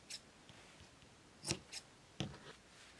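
Scissors trim loose strings off a handmade fabric rag doll: a few short, quiet snips spaced irregularly, with faint rustling between them.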